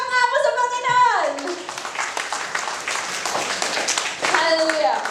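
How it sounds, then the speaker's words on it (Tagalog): Congregation clapping during a church service, a burst of many hands under a speaker's voice, with talking at the start and end framing the applause. "Isa palakpak nga po sa Panginoon."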